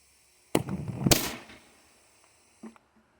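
A DIY plasma cannon launches a small finned rocket with a sharp, loud crack, followed by a second burst and a fading whoosh, then a faint short knock about a second later.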